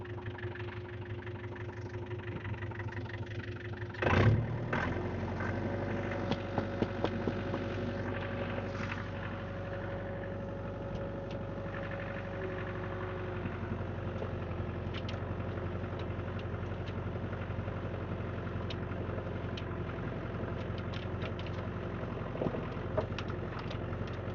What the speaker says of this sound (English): For this tractor, I find that it's best to run it at 1500 RPM.